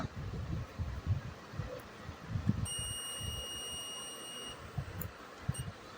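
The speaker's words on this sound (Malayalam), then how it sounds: "കണ്ടിന്യൂസ് മോഡിലിട്ട് ഞാൻ ഒരു വയറിൻ്റെ അറ്റത്ത് കണക്ട് ചെയ്ത് ഇവിടെ കണക്ട് ചെയ്യുമ്പോൾ ഇതിൽ നിന്ന് ഒരു ബീപ്പ് ശബ്ദം കേൾക്കും" A multimeter in continuity mode beeps steadily for about a second and a half with its probes across an intact wire, a thin electronic tone over low handling noise and faint background.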